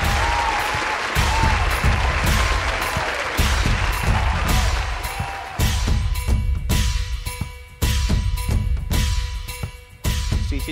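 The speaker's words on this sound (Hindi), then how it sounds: "क्या हम तालियों से स्वागत कर सकते हैं" A large audience at a formal Hindi-language event applauds to welcome guests, with steady, dense clapping that continues for about ten seconds, briefly dipping and swelling between waves.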